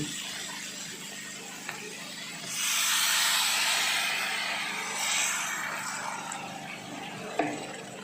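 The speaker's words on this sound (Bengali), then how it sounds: "আমি এবার পরিমাণ মতো জল দিয়ে দিচ্ছি" Water pours into a pan of cooking chhana with a soft rushing hiss that swells for a few seconds, fades, then surges briefly again, followed by a small knock; quiet overall with no talking.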